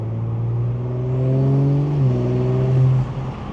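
Audi B9 S4 fitted with an Integrated Engineering carbon fiber intake accelerating, a loud droning engine note rising in pitch through the gear, then dropping sharply at a shift before climbing again, no talk.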